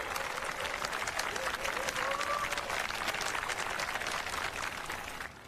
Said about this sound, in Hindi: जोर से तालियां बजाइए ताकि इन्हें एक अच्छी और लंबी जिंदगी साथ बिताने का आत्मविश्वास मिले।